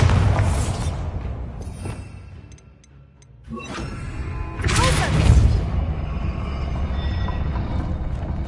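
A Bombarda spell blasts in Hogwarts Legacy, a loud burst of crackling noise that drops away, then a second rushing explosion follows with rumbling debris.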